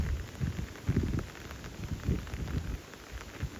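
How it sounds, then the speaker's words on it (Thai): Storm rain pouring down near a stopped train, a steady hiss of drops with low rumbling gusts swelling and fading, fairly faint and without talk. "ฝนพายุนะครับ"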